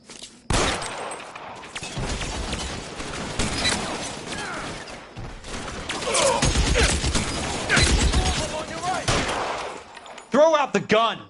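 A shootout in the video game L.A. Noire: repeated loud gunshots and rapid volleys crack in uneven bursts, with short lulls and a voice heard among them, ending in a cluster of sharp, ringing shots.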